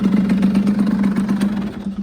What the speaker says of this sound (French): votre moto est démarrée